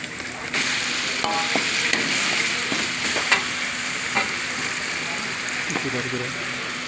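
Onions frying with ginger and garlic paste in a pan for egg biryani, a steady sizzle with occasional stirring clatters running through the whole stretch.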